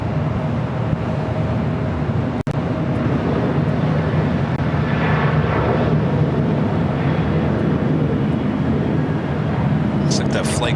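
A SkyWest Embraer E175 regional jet, flying as Delta Connection at LAX, gives off a steady, broad engine roar that holds evenly throughout, with one sharp click early on.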